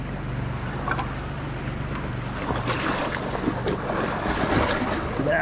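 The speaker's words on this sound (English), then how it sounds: "that boat got really close to me" A motorboat engine drones close by over water, with splashing waves and steady wind noise buffeting the microphone throughout.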